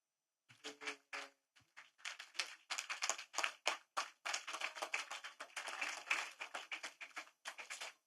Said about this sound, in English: We want to give you a thunderous round of applause.